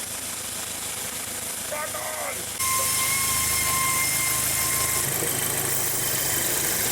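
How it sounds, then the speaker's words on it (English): A car engine idling in a repair shop runs rough and stumbles from a vacuum leak, a close, steady mechanical drone that shifts and grows louder partway through. "You notice the engine started stumbling when I did that."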